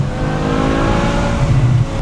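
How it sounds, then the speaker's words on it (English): A BMW M6 with a V10 engine, a street-legal supercar, roars steadily and loudly under way, its engine note holding high and rising slightly near the end with no voices. "And then hearing that V10 sound is just insane."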